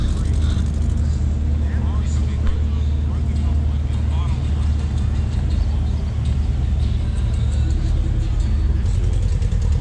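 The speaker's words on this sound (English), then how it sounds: "Let me get some cars pulling out for you." Cars rumble and drive off one after another as they pull out of a cars and coffee meet, a continuous low engine drone with passing vehicles and crowd voices in the background.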